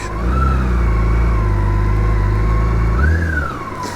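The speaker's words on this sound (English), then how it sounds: "leave the engine running, because that's what we like" A BMW K1600 GTL motorcycle's six-cylinder engine runs loud and close, with a steady idle rumble and a brief throttle blip near the end that lifts the pitch before settling again.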